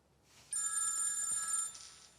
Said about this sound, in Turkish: Bak sen telefonuna.